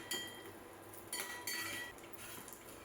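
Fried coconut pieces are scooped out of a pan of oil for bitter gourd mezhukkupuratti, with a few quiet metallic clinks of a spoon against the pan over a faint hiss.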